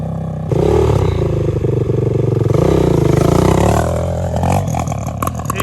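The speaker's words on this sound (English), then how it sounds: "Let it idle for a minute. It'll warm up." A Honda TRX450R ATV engine idling while warming up, a loud steady throbbing rumble close by that wavers slightly in pitch before some clattering near the end.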